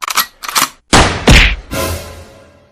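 Sharp gunshot cracks ring out in a Hindi comedy scene, a few loud, abrupt bangs in close succession with short pauses between them.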